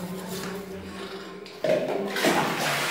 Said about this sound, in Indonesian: siram air biar bekas-bekas amplas itu hilang